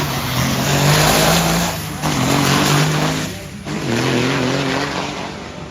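Amateur drag racing car at Irwindale accelerating hard on a Thursday night, a loud close engine roar climbing through gear changes with brief dips between shifts.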